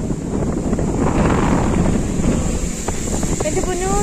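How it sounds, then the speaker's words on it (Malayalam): Strong wind at Vellayani freshwater lake in Kerala, a loud gusty buffeting roar against the microphone, with faint water and boat sounds beneath. "എന്റെ പൊന്നു, എന്തൊരു കാറ്റ്"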